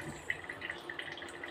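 Lentil water is poured into tamarind water for South Indian rasam, a faint, close liquid trickle with small drips scattered through a brief quiet moment and no talking.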